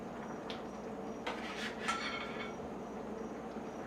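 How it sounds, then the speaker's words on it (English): Chopped steaks dropped back into a kitchen pan of steak Diane sauce, with a few metallic clinks and clatters of pan and utensil in quick bursts, then a soft low sizzle. "Now we can return our steak to the pan."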